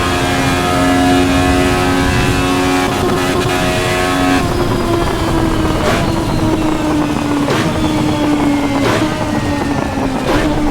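A race car engine in Assetto Corsa Evo revs hard and loud throughout, its pitch climbing and dropping repeatedly with sharp upshift breaks, heard alone without talk.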